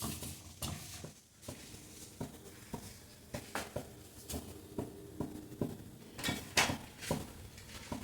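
A spoon scrapes and taps in a pan as soybean flour is stirred into roasted gram for laddoos, giving a steady series of soft clinks and shuffling strokes, close and moderately quiet, without talk.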